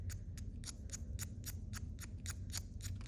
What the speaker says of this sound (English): I'm gliding the pencil, or gliding the X-Acto knife across the pencil lead